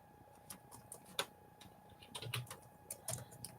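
Light, uneven clicks of fingers tapping a computer keyboard, a short burst of soft keystrokes close by and fairly quiet, with no talking.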